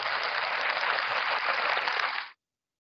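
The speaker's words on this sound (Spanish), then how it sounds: "¿Extrañados aplausos?" Steady broadband applause from a group, dense and fairly close, lasting about two seconds before cutting off abruptly into silence.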